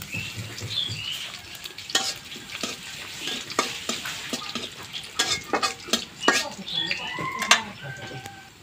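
Whole cumin and garam masala fry in hot oil in a pan for a thin fish curry, a light sizzle broken by clinks and scrapes of stirring, with a voice talking over the cooking.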